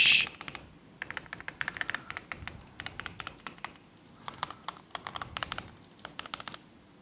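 Rapid typing on a mechanical computer keyboard, with bursts of crisp, clacky keystrokes separated by short pauses. It is close and clear, with no voices.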